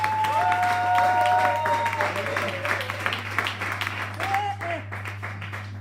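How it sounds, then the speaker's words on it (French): Applause for Maman Ourouna at a church gathering, a steady wash of clapping with a voice speaking over it and sustained tones beneath, fading slightly toward the end. "Acclamez pour Maman Ourouna."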